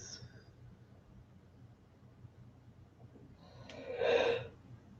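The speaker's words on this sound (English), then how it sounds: "Exhale for 10 seconds." A single deep exhale during a guided breathing meditation rises as a soft, breathy rush near the end of a quiet stretch, close and moderately loud.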